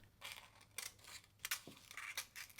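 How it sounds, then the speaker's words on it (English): Scissors snipping through paper while trimming the folded part of a paper cone for chocolate cornet buns, several short crisp cuts in an uneven rhythm, fairly quiet and close, with no talking. "and cut it off with scissors."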